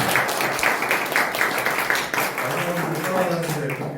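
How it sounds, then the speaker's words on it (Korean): A church youth congregation applauds together, a dense stretch of clapping that runs throughout at moderate level, with a voice speaking over the latter half. "박수 한번 쳐주십시오"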